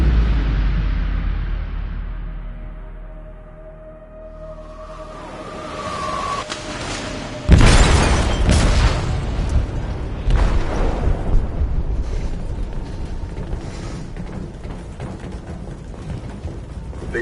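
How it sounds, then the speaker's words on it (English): An explosive detonates in a ship's hold in Detroit: Become Human: a sudden deep boom breaks the quiet midway through, followed by a long rumbling, clattering aftermath. "They detonated an explosive in the hold."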